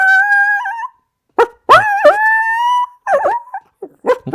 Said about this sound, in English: That's an alarm bark.